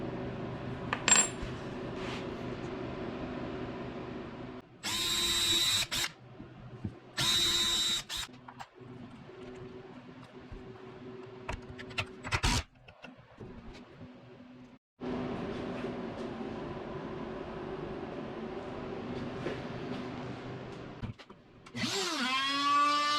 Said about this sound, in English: Now I just need to drill the holes.